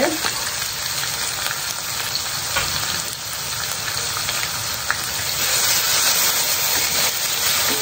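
Chili paste ingredients sizzle steadily in hot oil for a Malay wedding-feast dish, a dense continuous frying hiss with occasional stirring scrapes that grows slightly louder toward the end.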